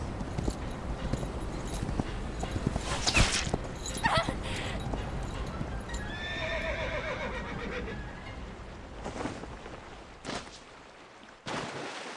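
A horse whinnies and neighs in the Reverse 1999 video game, the calls fairly quiet against a low background, with a few sharp hits and scattered movement sounds around them.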